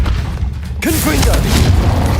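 A Confringo explosive spell in the Hogwarts Legacy video game erupts as a sudden loud boom after a brief lull, followed by a dense, crackling burst of sustained blast noise while a voice shouts over it.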